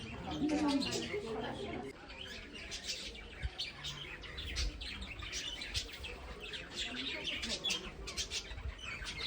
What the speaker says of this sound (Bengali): চারিদিকে এই বাগানের ভেতর থেকেও এত সুন্দর কিচিরমিচির আওয়াজ শোনা যাচ্ছে